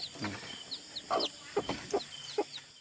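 A hen clucks in short, repeated bursts, close by, with some chirping birds in the background.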